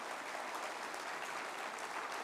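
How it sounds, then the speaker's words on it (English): At a health summit in Nairobi, a faint, distant wash of steady applause from a standing audience continues evenly throughout, with no break and no voices. "Tuwapigie makofi jamani."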